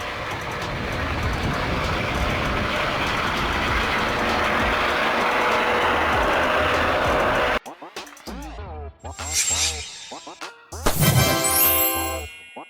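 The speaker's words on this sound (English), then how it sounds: "This is a police helicopter, a helicopter for aerial pursuit, surveillance, and emergency rescue." A police helicopter roars loudly and steadily for several seconds, then cuts off abruptly and gives way to a few short, sharp sounds.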